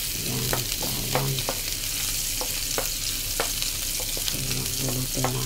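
Garlic sizzles and fries steadily in a hot pan, with a constant close crackle and repeated scraping stirs of a utensil breaking through.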